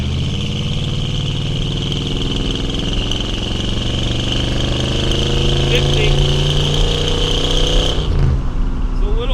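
A 1969 Buick Riviera, suspected of an exhaust leak, pulls hard down a straightaway, its engine drone rising steadily in pitch inside the cabin, then easing off near the end.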